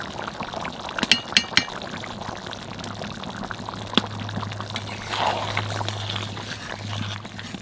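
Hot water is poured into a pot of raw jackfruit curry cooked with mutton keema. A few sharp clanks come first, then a soft, steady pour and bubbling. A low hum runs underneath.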